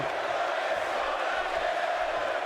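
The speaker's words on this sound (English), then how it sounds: "and you can hear the crowd" Crowd chanting in the WWE 2K18 wrestling video game, with a Newcastle arena audience roaring a steady, unbroken chant that fills the whole moment at an even level.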